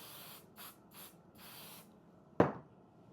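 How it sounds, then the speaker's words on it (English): Basting spray from an aerosol can sprayed onto quilting fabric laid over batting, in four short hissing bursts in a row, then a sharper brush of the fabric being smoothed down by hand. "basting spray kind of helps temporarily hold that fabric to your batting"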